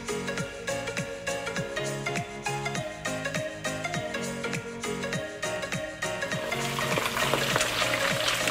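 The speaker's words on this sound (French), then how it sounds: "l'huile doit être assez chaude pour faire dorer le poisson comme il faut" Salmon frying in hot oil gives off a close, busy sizzle with regular clicking crackles and a rhythmic pattern, swelling into a brighter hiss toward the end.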